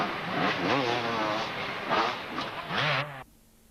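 A Husqvarna enduro motorcycle races along a forest trail in a British enduro event at Breckland, its two-stroke engine buzzing and revving loudly in a few rising pulls before cutting off abruptly.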